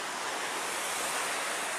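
Black Sea waves washing against a rocky shore, a steady, loud rush of surf with no voices.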